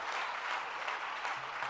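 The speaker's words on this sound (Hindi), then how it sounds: "जरा जोरदार तालियां आप भी बजाइएगा" Applause from the seated audience at a Jain religious question-and-answer gathering in Agra, a steady dense patter of many hands clapping throughout, fairly faint and even, with no talk over it.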